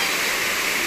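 Balite/Arangin Falls, a waterfall heard as a loud, steady, broadband roar of rushing water, close and continuous through a short moment with no talk.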